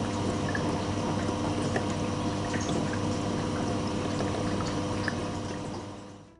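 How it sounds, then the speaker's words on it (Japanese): Water runs steadily into the drain trap of a Hitachi BD-S7500 washer-dryer once its drying cycle finishes, a constant close rushing pour that holds for several seconds and tapers off at the end. "乾燥運転終了後に排水トラップに水をためるため水を流している"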